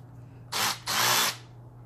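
A Milwaukee M12 Fuel cordless ratchet runs in two short bursts, each a loud close whirring motor sound, with a brief gap between them and quiet before and after.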